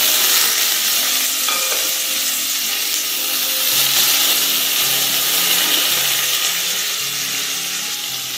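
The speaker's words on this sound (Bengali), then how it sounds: "এবার দিয়ে দেবো আমি কেটে রাখা টমেটোগুলো।" Chopped tomatoes hit hot oil with a bay leaf, giving a loud, dense, hissing sizzle that holds steady from start to finish with little variation.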